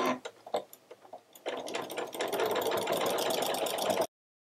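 A sewing machine stitches two fabric edges together for a fabric clip wrist holder. A few soft clicks come first, then a steady, fast, even mechanical whir runs close and loud for several seconds before stopping abruptly.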